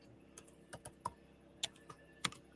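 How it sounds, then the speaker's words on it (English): Typing on a computer keyboard, a sparse run of separate key clicks with irregular pauses, close and clear over quiet room noise, no talking. "I'm typing it out right now."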